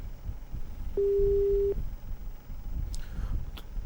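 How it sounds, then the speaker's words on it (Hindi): A telephone busy tone sounds after a phone call drops because of a technical fault: one steady beep of under a second, heard alone over faint background noise. "तो तकनीकी खामियों की वजह से डिस्कनेक्ट हो गया फोन"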